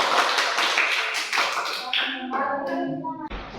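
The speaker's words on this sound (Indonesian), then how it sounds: "Oke, tepuk tangan." Students in a classroom applaud after a group presentation, a brief burst of clapping that fades quickly into a voice speaking.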